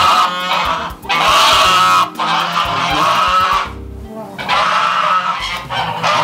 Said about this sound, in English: These are my geese.